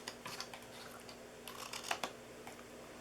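Scissors cut into scored paper for a popcorn treat box, giving faint, close snips and crisp paper rustles in short irregular bursts with a pair of sharper snips near the middle, no speech.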